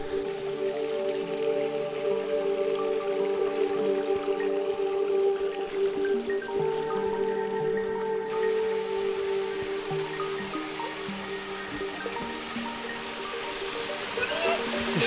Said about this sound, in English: We have a waterfall here.